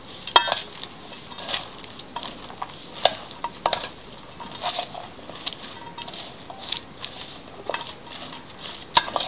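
Egg roll filling of cabbage, carrot and sausage is mixed with soy sauce in a bowl, giving close, repeated scraping and clicking of a utensil in an irregular rhythm, no talking.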